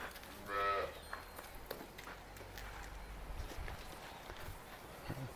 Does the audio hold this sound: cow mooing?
yes